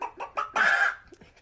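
A man imitates a chicken with his voice, giving a few short clucks that lead into a loud, drawn-out squawk and then a couple of faint trailing clucks, all close up and on their own.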